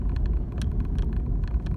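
A car engine rumbles low and steady as a learner driver gives it a little gas during a driving lesson, close cabin drone with faint rattles and no speech.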